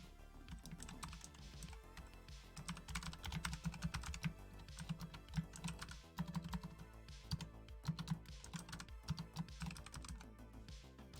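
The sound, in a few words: typing on a computer keyboard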